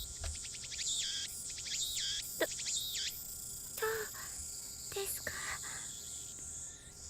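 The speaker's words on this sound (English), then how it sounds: "The only sound is the chirping of cicadas." Cicadas drone in a steady high buzz in the Steins;Gate video game, with bright chirping calls rising and falling over it in short repeated bursts.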